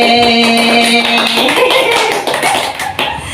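A small group plays a counting clapping game, loud sharp taps in quick clusters over a sustained tone, with voices joining in.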